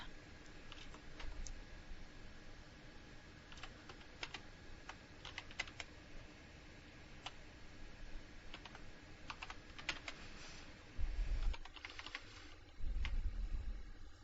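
Steady, close typing on a computer keyboard while a loan payment formula is entered, with quick irregular clicks and short bursts of keystrokes running throughout and no talking.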